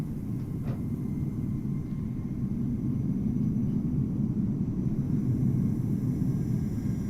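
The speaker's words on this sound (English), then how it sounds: "here comes the KLM 868 787" A simulated KLM Boeing 787 airliner arriving at Amsterdam Schiphol in Microsoft Flight Simulator, a steady low jet rumble and roar that holds throughout without talk.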